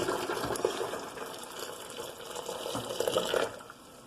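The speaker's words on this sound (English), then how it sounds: "we'll just pour that in there." Freshly boiled water is poured into a hot water urn used for tea and coffee, giving a close, gurgling, splashing fill with uneven surges that tapers off toward the end.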